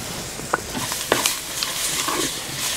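Mint and coriander leaves stirred in a hot pan, giving a steady soft sizzle with a few light scraping stirs, close and continuous with no talk.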